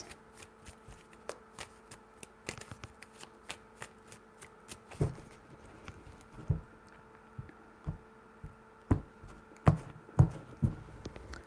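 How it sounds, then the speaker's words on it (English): Tarot cards being shuffled at close range in a quiet room: a series of crisp riffling bursts and soft taps at irregular intervals, no talking. "3 shuffles."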